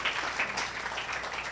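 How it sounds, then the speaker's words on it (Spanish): A congregation at a church service claps together in a steady, dense burst of applause that lasts the whole short stretch, close and evenly loud, with no one talking over it. "Den un fuerte aplauso a nuestro Padre Celestial."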